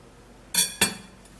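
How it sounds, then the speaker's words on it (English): Knife cutting through an orange, two sharp close cuts in quick succession, loud and crisp with no talking. "And cut the orange."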